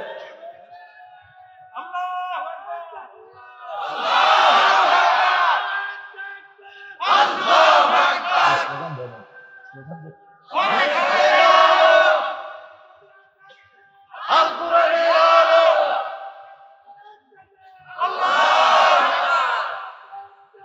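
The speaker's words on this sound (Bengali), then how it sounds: "একটু গলা ছেড়ে স্লোগান দেন তো" A large crowd at an outdoor religious sermon shouting slogans in unison, five loud sustained chanted bursts separated by short gaps, with a lone voice leading between them.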